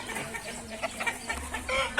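Fighting-breed roosters cluck and squawk in short, uneven bursts at moderate distance, layered over a busy farmyard background with a low hum.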